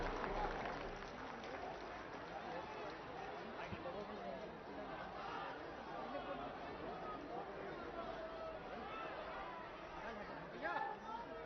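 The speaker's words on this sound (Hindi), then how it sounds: "आप सबकी जोरदार तालियों के बीच" A dense crowd at a Prime Minister Narendra Modi rally in Prayagraj, with steady broadband clapping and murmuring that stays fairly even and loud throughout.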